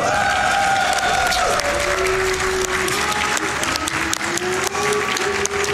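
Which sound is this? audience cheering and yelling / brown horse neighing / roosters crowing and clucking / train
audience cheering and yelling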